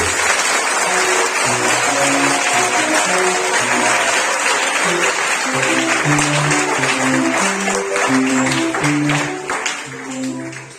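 A church congregation at a Sunday service bursts into loud, sustained applause and cheering, with voices singing and calling out throughout, before the clapping eases off near the end.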